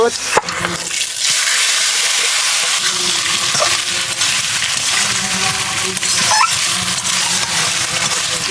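Snakehead fish frying in a pan with bay leaf and cumin, a steady broadband sizzle with faint clinks running throughout, fairly loud and close.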